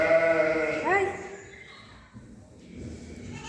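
A goat bleats once on a farm, loud and close with a wavering rising call that lasts about a second, followed by quieter background sounds.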